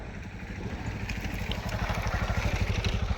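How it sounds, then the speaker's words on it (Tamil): A food delivery rider's motorbike passes close by, its low pulsing engine putter growing louder and steadier over a few seconds, with no talking. "ஒரு வண்டி பாஸ் ஆகுது"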